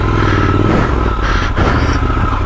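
A Triumph Scrambler 1200 XE rides off-road through ruts, its engine a loud, close, steady drone with some mechanical clatter and no talk.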